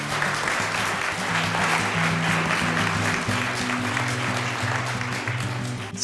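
Audience applause at a Leeds health equity launch event, welcoming a professor of epidemiology to speak: steady, dense clapping from a sizable indoor crowd lasting the whole stretch, with a faint background hum.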